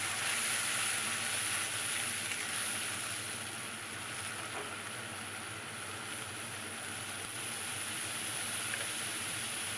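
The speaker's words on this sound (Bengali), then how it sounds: "একটা ছোট পেঁয়াজ একটা বড় টমেটো পেস্ট করে নিয়েছি ওটাই ফোড়নে দিয়ে দিলাম" Onion and tomato paste hits hot oil tempered with whole cumin, giving a steady, soft, hissing sizzle that holds evenly throughout without any talk.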